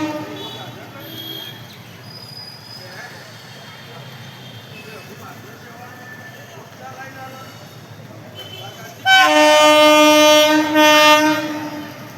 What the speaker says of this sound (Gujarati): ટ્રેન આવી ગઈ।